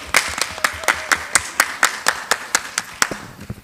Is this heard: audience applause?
yes